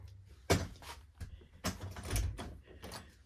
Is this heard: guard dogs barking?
no